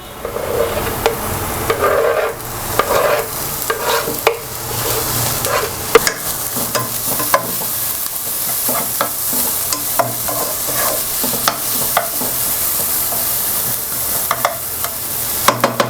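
Carrots are stirred and fried in a pan with cashews for upma, giving a continuous soft sizzle broken by repeated sharp scrapes and taps of the spoon against the pan, close and steady with no talking.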